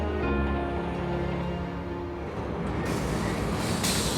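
A train in Siberia rolls along the rails with a steady loud rumble and hum, a high tonal whine fading out midway, then broadband rattling noise.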